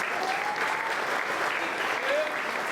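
Audience at a lodge centennial celebration applauding the lodge chief, dense sustained clapping from a large crowd throughout.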